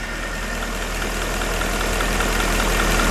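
A Mercedes petrol V6 or V8 engine (M272, M273, M112 or M113 family) idles running on petrol, giving a steady, even low rumble throughout with no voices over it.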